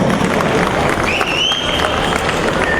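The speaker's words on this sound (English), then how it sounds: "give a big exercise round of applause for this Dhamma" Audience applause at a children's Janmashtami program in Houston, a broad steady wash of clapping and crowd noise throughout, with a faint whistle-like tone rising over it midway.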